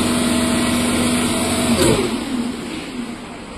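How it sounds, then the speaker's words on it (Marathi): A DC shunt motor hums steadily with a whining tone that drops away as it slows mid-clip, leaving a quieter running noise afterward. "मोटार आता क्लॉकवाईज दिशेने फिरत होती आता ती अँटी क्लॉकवाईज दिशेने फिरायला पाहिजे"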